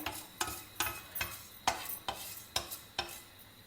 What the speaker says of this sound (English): First we will dry roast them over a low flame till they change color.